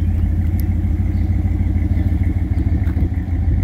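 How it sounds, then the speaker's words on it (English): A 1992 Dodge Dakota 4x4 idles through its dual exhaust, a close, steady low rumble with a regular pulsing burble that continues unbroken for a few seconds. "Nice dual exhaust."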